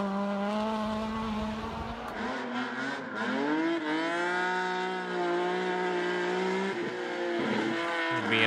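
A BMW rally car engine revs hard and shifts through gears, its tone sweeping up and down, with tire noise on the surface. The sound is loud and close and continuous, and no one speaks over it.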